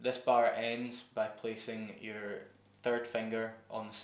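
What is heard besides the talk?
No distinct noise like a dog, phone or traffic.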